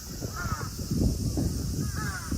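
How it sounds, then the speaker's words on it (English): Crows caw twice, a few seconds apart, moderately distant, in a park in Kanazawa, over steady outdoor background noise and wind rumble. "and the birds, I know these birds are horrible, but nice"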